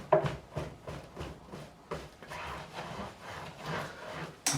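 A fret-levelling sanding beam is rubbed back and forth along the frets of a Gibson ES-335 neck, giving quiet, rhythmic rasping strokes close by, about eight passes, with no talk.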